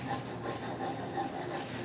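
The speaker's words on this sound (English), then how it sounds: "I will begin by using a sanding block" A sanding block rubs along the edges of a wooden indoor bench, producing a steady, close scratchy rasp in quick back-and-forth strokes with no talking.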